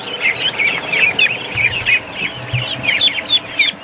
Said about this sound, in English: We're going to grab a goose here, a big one.